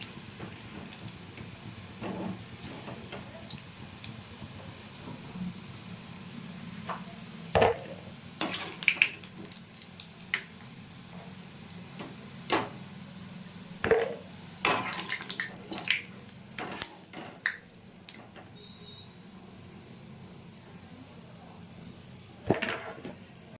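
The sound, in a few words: flour and sugar sweets frying in oil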